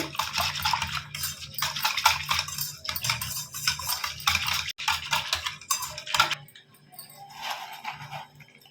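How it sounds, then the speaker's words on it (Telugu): Milk mixed with junnu powder in a vessel, stirred briskly to break up lumps, producing rapid scraping and sloshing bursts that fade into quieter swishing near the end, with no talking. "ఇప్పుడు ఇది బాగా కలుపుకుందాం, ఉండలు లేకుండా పాలల్లో కలిసిపోవాలి"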